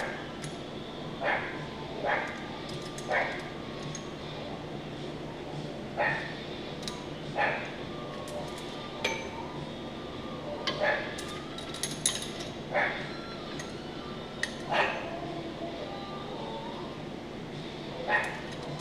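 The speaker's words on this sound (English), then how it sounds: "something done disturbed my shop dog." A shop dog barks repeatedly in a workshop where a Jeep's brake lines are being replaced, sharp yips and barks spaced irregularly at middle distance over a steady background hum.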